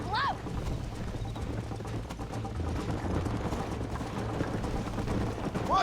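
Horse hooves clip-clop at a steady gallop in Red Dead Redemption, a continuous rhythmic thudding under a game soundtrack with spoken dialogue over it.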